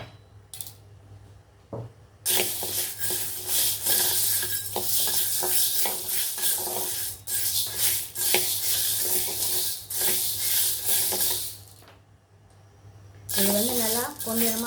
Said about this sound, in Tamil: ஒரு கப் பச்சை பயிறு, இதை வறுத்துக்கணும்.